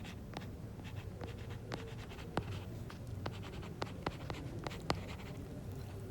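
A pen draws a graph on paper, producing soft, close scratching strokes with irregular short ticks and taps as marks are made, over a faint room hum and without any talk.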